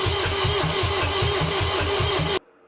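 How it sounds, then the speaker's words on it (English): Diesel engine of a Mercedes E220 CDI W210 cranking with a rhythmic, steady chug after a starter motor replacement, close and loud for over two seconds before cutting off abruptly. "now I'm gonna start the engine and see how it sounds"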